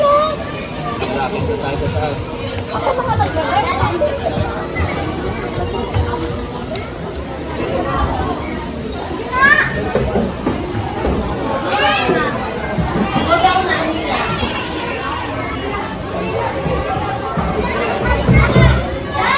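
Children playing and shouting at an outdoor playground at the Manila Zoo, a steady lively babble of young voices with occasional louder cries throughout.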